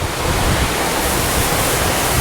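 Heavy rain pours down on a house building site in the Philippines, a loud, dense, continuous hiss with no breaks.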